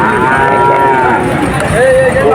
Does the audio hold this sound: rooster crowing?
no